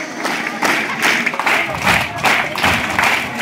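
An audience at a school cultural meet claps in a burst of applause, with dense rhythmic clapping pulses heard close and fairly loud.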